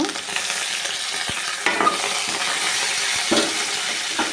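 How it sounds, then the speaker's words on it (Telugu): Tempering for tamarind-leaf dal crackles in hot oil as asafoetida is added, a continuous bright sizzle with occasional stirring knocks of a spoon against the pan, no voices. "తాలింపు కాగింది ఇందులో కొంచెము ఇంగు వేసుకుందాం"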